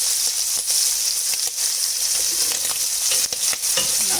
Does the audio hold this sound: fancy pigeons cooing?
no